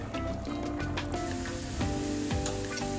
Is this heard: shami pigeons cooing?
no